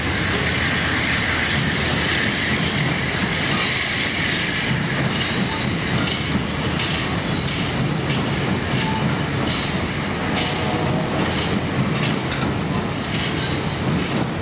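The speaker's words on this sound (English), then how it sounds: "Amtrak train number 6, the California Zephyr, passes on the main line." An Amtrak passenger train, the California Zephyr, rumbles past close by on the main line, a steady loud roar of wheels and rail with rhythmic clacking and a faint squeal throughout.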